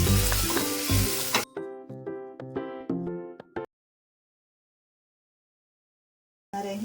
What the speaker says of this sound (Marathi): तेल गरम झालं आहे, त्यात मी टाकणार आहे हा स्मॅश केलेला बटाटा. हा थोडासा परतून घ्यायचा आहे.